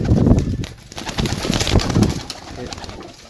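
Pigeons coo in low, repeated throaty bursts close by, several birds overlapping amid light rustling and scattered background noise, with no speech.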